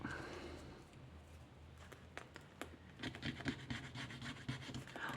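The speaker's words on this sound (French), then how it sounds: "Alors, on va gratter." A lottery scratch-off ticket being scratched, faint close rasping strokes coming in short irregular bursts that grow busier toward the end, with no talking.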